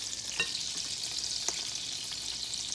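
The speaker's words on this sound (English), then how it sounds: "Now we're going to get it in our butter and our olive oil." Floured pieces fry in butter and olive oil in a pan, giving a steady, soft sizzle with a few brief crackles and pops, heard alone and fairly close.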